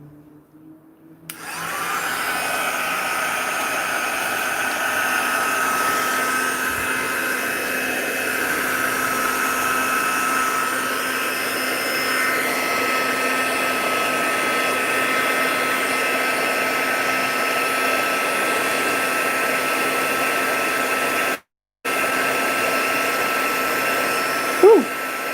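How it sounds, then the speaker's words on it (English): A Crafter's Choice heat tool runs steadily for heat embossing, a loud continuous blowing whir with a faint hum, cutting out briefly near the end before resuming. "So I'm going to use this Crafter's Choice heat tool."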